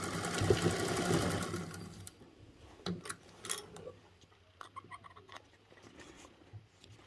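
A sewing machine runs steadily for about two seconds stitching a seam at a 3/8 inch allowance on a Pandora Allure bag, then stops, leaving scattered soft clicks and handling noises.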